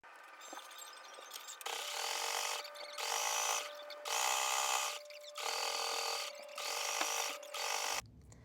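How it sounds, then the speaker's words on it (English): Sewing machine running in bursts while stitching a 1/2 inch seam on a Christmas stocking, about five steady whirring runs separated by short pauses, close and alone. "you're going to sew a 1/2 inch seam all around except for the top"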